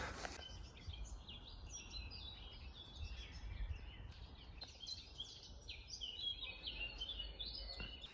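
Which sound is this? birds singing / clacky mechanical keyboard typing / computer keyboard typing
birds singing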